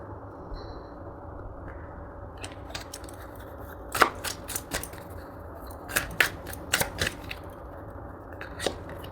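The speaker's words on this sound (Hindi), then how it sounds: "कार्ड्स निकालते हैं" Tarot cards handled close up: a quiet background gives way to crisp, irregular snaps and riffling bursts as the deck is shuffled and cards are drawn, with no talking.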